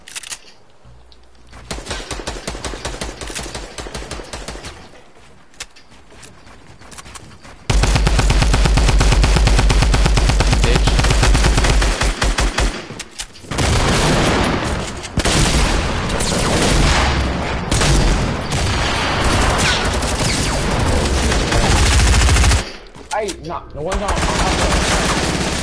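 Rapid SMG gunfire in a multiplayer shooter duos match, loud sustained bursts and stuttering volleys with booms, a brief lull before the heavy firing, and voices talking in between.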